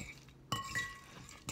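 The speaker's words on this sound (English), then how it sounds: "Give it a quick stir." A spoon clinks against a glass dish while stirring food with sautéed onions and garlic, giving a few quiet, separate chimes in a calm kitchen.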